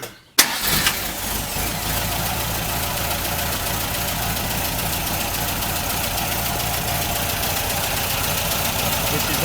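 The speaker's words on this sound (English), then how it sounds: "Okay, so I'm going to go ahead and start it up now." A Triumph TR4A engine cranks and catches after a brief silence, then settles into a steady, close idle that runs on evenly to the end.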